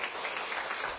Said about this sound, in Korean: 예배 중이라도 이런 땐 박수 쳐도 괜찮아.